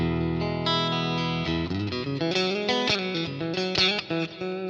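An electric guitar on its middle pickup, with effects and slight distortion, plays a held chord and then a quick, busy melodic run, loud and close with no talking.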